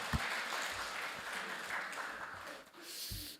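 A church congregation applauds during a Sunday morning worship service, a soft, dense patter of many hands heard from some distance, with faint low thumps underneath and no speech.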